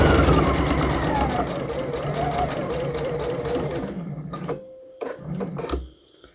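A sewing machine runs a straight stitch at 2.5 mm stitch length on a V-neck seam, whirring steadily and close for about four seconds, then stopping, followed by a few brief stitching bursts.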